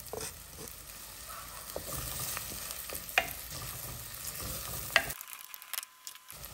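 Onion and epazote sauté in a pan for traditional Mexican esquites, making a soft, close sizzle broken by occasional sharp utensil clinks and stirring scrapes, then dropping to near silence at the end.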